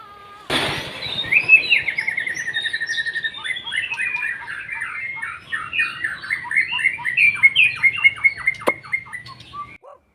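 A white-rumped shama sings alone at close range, starting with a sudden burst and then running through rapid repeated trills, chirps and whistled phrases in lively, varied bursts.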